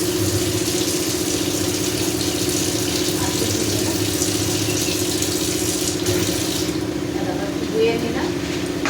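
Water runs steadily from a tap during washing, a constant close hiss alongside a low background hum, with faint clatter toward the end.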